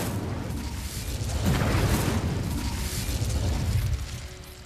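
A fiery Incendio spell bursts out in Hogwarts Legacy, a sustained roaring whoosh with a booming, explosive swell that peaks midway and trails off over several seconds.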